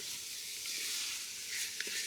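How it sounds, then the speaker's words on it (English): Ground sausage sautéing in a pan over turned-up heat, giving a soft, steady hiss of sizzling with a faint tap near the end, quiet and continuous. "we can turn the heat up a little bit so you saute it quickly"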